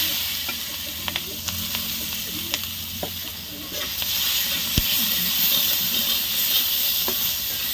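Dried red chillies and bay leaves fry in a very hot wok with a steady, loud sizzle and hiss, broken by scattered sharp crackles and pops. No one speaks over it.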